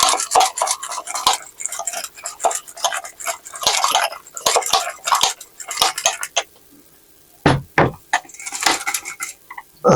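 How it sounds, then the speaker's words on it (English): Small push whisk beating an egg mixture for hollandaise sauce in a bowl, close and fairly loud, with rapid irregular clicking and scraping strokes, brief pauses, then a few sharper clinks. "I'll just use my little whisk, push whisk"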